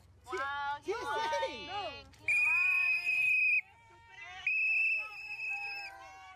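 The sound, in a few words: whistling at a protest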